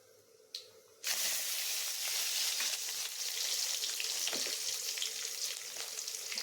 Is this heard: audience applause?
no